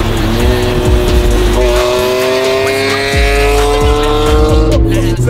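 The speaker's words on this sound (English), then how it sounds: "You guys don't know Eric put a new Valvetronic system on his M3 wagon." BMW M3 wagon fitted with a Valvetronic exhaust, its engine revving loud and close with rising, held tones and a deep throaty rumble, sustained over several seconds.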